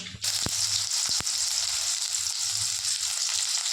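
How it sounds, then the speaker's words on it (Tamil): Chopped large onions drop into a little hot oil in a kadai, setting off a close, even sizzle that hisses steadily after a couple of sharp knocks at the start. "ஒரு கடாயில் கொஞ்சமாக எண்ணெய் ஊற்றிக்கலாம். கொஞ்சம் போட்டுக்கலாம். பெரிய வெங்காயம் 2 வெட்டி வச்சுருக்கேன், அதையும் சேர்த்துக்கலாம்."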